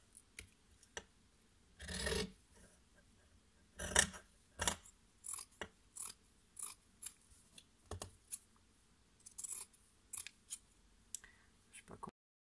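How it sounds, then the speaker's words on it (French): Scissors cutting a small piece of linen fabric, with quiet, close snips and rustles, a few louder crunching cuts, and irregular pauses between strokes. "On va essayer de le couper droit."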